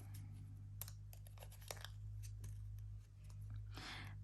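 Light papery flicks and soft rustles of a small tarot deck being shuffled up close, in irregular bursts over a steady low hum, with no talking.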